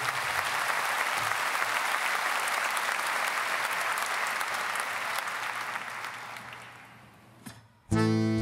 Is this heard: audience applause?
yes